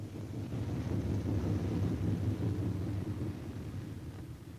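A WWII B-17 Flying Fortress bomber comes in to land with its left inboard engine dead, a low steady droning rumble that is faint and distant, fading slightly toward the end.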